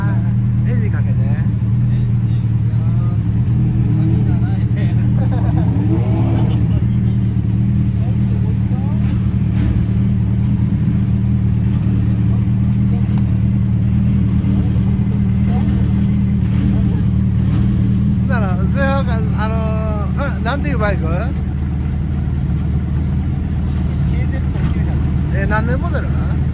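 A motorcycle with an aftermarket exhaust idles and revs with a deep, throaty exhaust rumble, loud and close, while people chat nearby.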